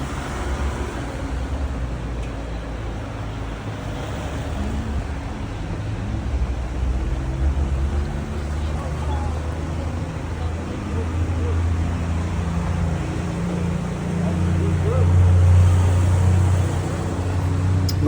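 A diesel off-road vehicle's engine drones steadily and loudly throughout, a low rumble with road and wind noise that swells slightly toward the end.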